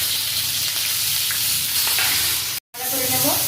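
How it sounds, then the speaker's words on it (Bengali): Onion, garlic and green chilli frying in oil in a pan, a continuous close sizzle with scraping stirs, broken by a brief cut near the end before the hiss resumes. "দেবো পেঁয়াজ, দেবো রসুন কুচি, ভাজা ভাজা করে নিয়েছি"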